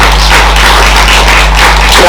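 Dense, loud applause from a Korean church congregation during a Sunday worship service in New Zealand fills the space as a continuous wash of clapping, with a faint voice underneath.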